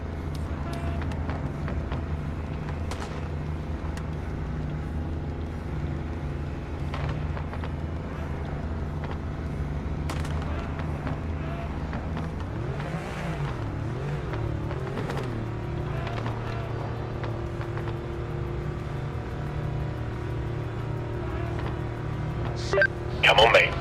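In a racing video game, a race car engine idles quietly as a low steady drone, then revs up and down in rising and falling swells, with a person talking over it throughout.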